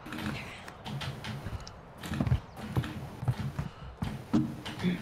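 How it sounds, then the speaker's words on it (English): Footsteps in Call of Duty Modern Warfare 2, a run of irregular thudding steps with some sharper taps, fairly close and uneven in loudness, with no talk over them. "I hear footsteps."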